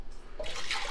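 Warm wine reduction poured into a beef stew pot, a brief liquid splash and gurgle swelling after a quiet start and running steadily to the end.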